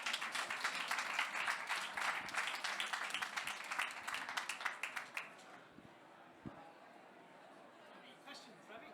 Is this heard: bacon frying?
no